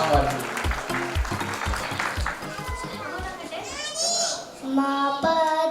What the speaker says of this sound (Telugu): సో ఒకసారి గట్టిగా క్లాప్స్ కొడితే ఆర్న మన కోసం సాంగ్ పాడుతుంది